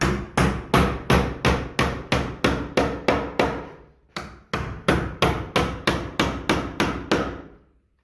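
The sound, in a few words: hammering wood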